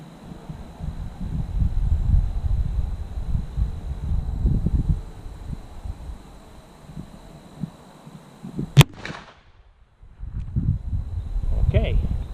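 A single sharp, loud report from a Ruger Super Blackhawk Hunter .44 Magnum revolver firing a tumble-lubed, gas-checked bullet outdoors, set among stretches of someone talking and soft wind.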